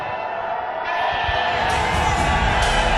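Peshawar Zalmi fans cheering in a cricket stadium, a loud, steady roar of a large crowd that swells slightly, heard from a distance as a continuous wash.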